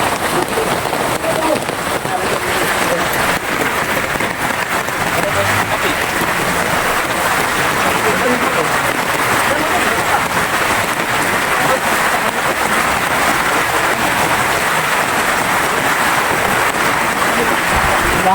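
Heavy rain falls steadily on a construction site where a concrete beam is being poured, a dense, unbroken hiss of drops on surfaces throughout, loud and close.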